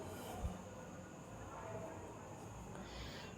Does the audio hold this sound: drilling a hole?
no